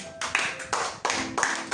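A church congregation claps in quick, uneven bursts of hand claps, loud and close, with brief pauses between the bursts.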